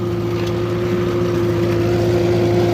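A tractor engine runs steadily in second gear, a constant low droning hum with a strong tonal whine that holds level and close throughout, with no voices.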